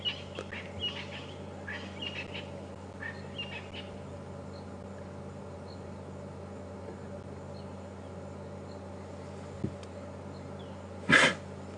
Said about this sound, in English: So as the lions are walking through the grass, they get a lot of grass seeds in their nostrils. Hence the sneezing.